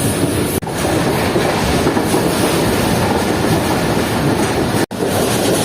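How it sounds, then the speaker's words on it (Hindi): The 8 Down Tezgam Express, running between Rawalpindi and Karachi, rolls past on the rails in a loud, continuous rush of wheel clatter and rumble that holds steady close by for the whole stretch, with no voices. "ये थी रावलपिंडी कराची के दरमियान चलने वाली 8 डाउन तेजगाम एक्सप्रेस"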